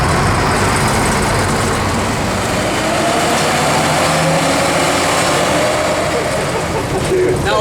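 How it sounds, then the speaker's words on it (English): A US Navy locomotive engine runs with a loud, continuous mechanical rumble and drone that holds steady and close throughout, with a slight rise in intensity near the end. "This particular example is a Navy locomotive"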